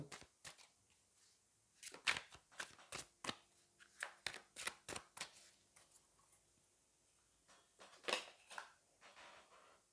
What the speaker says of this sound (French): je vais aller prendre une autre carte